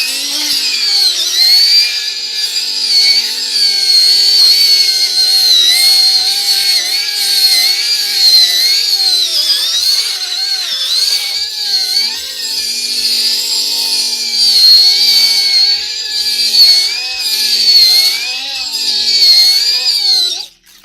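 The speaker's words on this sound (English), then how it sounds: "I'm going to just use the standard polisher." A standard electric polisher runs steadily and loudly without pause, a continuous high whine with slight wavering pitch close by, drowning out any other sound.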